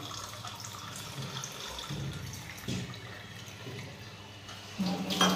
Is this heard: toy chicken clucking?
no